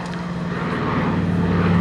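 A Consolidated PBY-5A Catalina flying boat flies past overhead, its piston engines giving a steady, broad propeller drone that swells slightly, with no voices.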